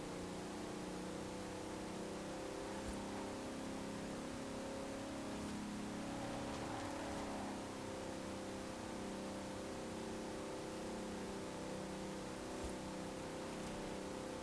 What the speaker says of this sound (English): I'm going to let you listen to the engine for a little bit now that we've gained some speed.